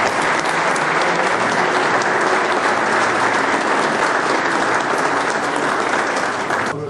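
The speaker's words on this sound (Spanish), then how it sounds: "pido un fuerte aplauso para él" A crowd at a reunion celebration party breaks into strong, sustained applause, dense and loud for about seven seconds before tapering off at the very end.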